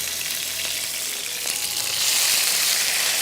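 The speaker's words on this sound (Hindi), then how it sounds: "इसको हमने तेज़ आंच पे करना है फ्राई, और ये मुकम्मल पकनी है" Okra (bhindi) frying over high heat in a pan, a steady loud sizzle with crackling hiss that swells slightly louder partway through, heard up close with no voices.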